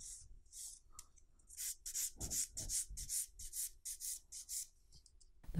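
A nail file rasps back and forth over a sculptured acrylic nail in a series of quick, bright scratchy strokes, close up and quiet, with no talking.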